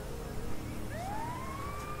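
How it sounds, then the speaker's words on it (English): A short emergency vehicle siren blip from an EMS rig, a single rising electronic whoop that sweeps upward and holds, heard over steady traffic and engine rumble. "Just blip the siren to say thanks."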